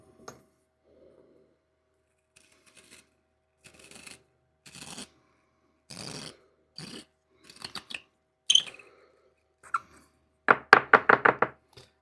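A reamer scrapes and grinds inside the bowl of a 1937 Dunhill briar pipe, giving scattered short scratchy strokes that build into a rapid, louder run of close crunching scrapes at the end.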